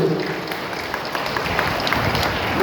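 Applause for a service team at a parish patronal feast, steady dense clapping from a gathered crowd that holds at an even level throughout with no pauses.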